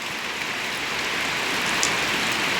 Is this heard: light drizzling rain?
yes